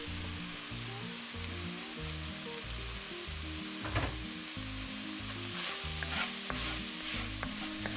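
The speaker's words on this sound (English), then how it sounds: "Mix all that together." Onions and spices, including chili powder, cayenne, black pepper and salt, sizzle in a frying pot for a shipwreck stew while being stirred, with a steady fry and a few scraping clinks of the spoon.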